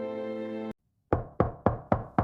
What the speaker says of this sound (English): Someone is knocking very hard at our door right now.